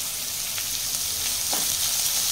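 Curry leaves and green chilies sizzle loudly in hot oil, a dense hissing crackle that holds steady from start to finish, with a few brief sharper pops.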